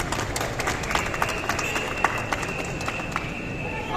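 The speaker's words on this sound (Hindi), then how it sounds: "तो मैं चाहूँगा कि यहाँ मौजूद तमाम दोस्तों के लिए सब दोस्त एक दफ़ा तालियां ज़रूर करें।" A crowd at a protest gathering claps for the friends present, brisk scattered applause with sharp individual claps under a steady background hum and some crowd noise.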